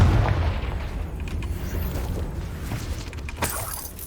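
A fire-spell blast in the Hogwarts Legacy video game, a loud booming burst at the start that rumbles and decays, followed by crackling and a second sharp impact near the end, with no talking.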